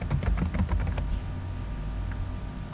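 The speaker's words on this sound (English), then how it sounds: "we're going to press the Control key on our keyboard and enter" Keys clicking on a computer keyboard in a quick cluster of taps, ending with Control and Enter pressed together, followed by quiet room hum, close and crisp.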